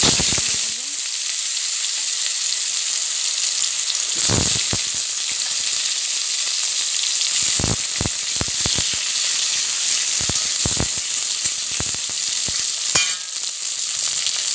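Cumin seeds crackle and sizzle loudly in hot oil as they darken, a constant bright hiss broken by sharp pops and spoon scrapes, close up with no voices.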